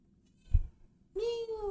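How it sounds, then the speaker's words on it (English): Pet cats indoors: after a soft thump, one cat gives a clear, close meow that holds and wavers for over half a second. No talking. "my cats came and wanted to see what happened"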